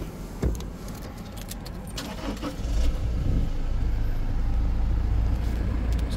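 Keys for a 2022 Toyota Prado jangle briefly near the start, followed by a steady vehicle engine hum that grows slightly louder and continues throughout.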